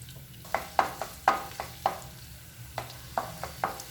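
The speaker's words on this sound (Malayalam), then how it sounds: "ഇതിലേക്ക് നമുക്ക് വെളുത്തുള്ളി ഇഞ്ചി ഇട്ട് കൊടുക്കാം." Garlic and ginger fry in hot coconut oil for a brinjal curry, giving a low sizzle broken by irregular sharp scrapes and taps of a spoon stirring in the pan, close by with no talking.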